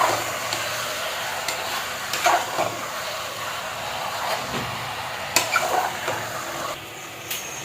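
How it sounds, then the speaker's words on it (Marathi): Marinated mutton is added to fried masala in a pan and stirred, giving a steady sizzle and hiss with scattered scrapes and clinks of the spoon against the pan. "आता हे सगळं मटण मी त्याच्यामध्ये टाकते आणि चांगलं एकजीव करते"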